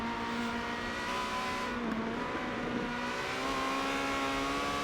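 A Ferrari 360 Challenge Stradale race car at Mugello during a Ferrari Challenge Cup race holds a loud, sustained engine howl from onboard, steady in pitch with a short dip and recovery partway through.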